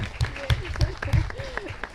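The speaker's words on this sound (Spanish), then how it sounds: "hagamos un aplauso para que sea gratuita" At a science outreach talk, a small group claps in loose, rhythmic bursts roughly every third of a second while voices talk and call out over the clapping.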